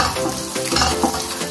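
Onions sautéing with browned garlic in a frying pan give a loud, steady sizzle with a few stirring scrapes, close up and with no voices.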